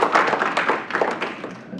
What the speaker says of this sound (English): please, a round of applause for Charles and his team